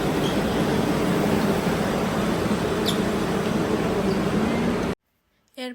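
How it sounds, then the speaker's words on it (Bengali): Inside a Barcelona metro train near a station, a loud, continuous rushing rumble fills the car for about five seconds, then cuts off abruptly into near silence with a brief faint sound at the end. "এখন আমি নেমে যাবো মেট্রো থেকে"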